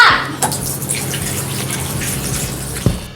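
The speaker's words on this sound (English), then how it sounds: "సరే నేను చేతులు కడుక్కుంటా." Hands being washed under a running tap at a school hand-washing day event: a steady, close rush of water with a couple of brief knocks and splashes, and no talking.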